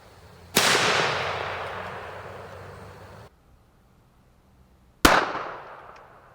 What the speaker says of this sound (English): how do you guys think the polymer tipped 22 mag is going to do against 16 layers of Firehose?